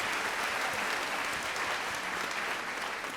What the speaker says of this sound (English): Please give a warm round of applause for Jordan Thomas.